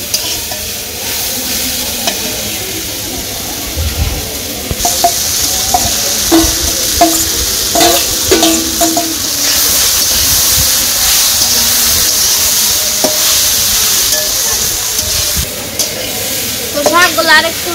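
Fish frying in a pan during village cooking, a continuous sizzle and hiss with scraping stirs and clinks of a utensil, close and fairly loud, with bits of voice in the background.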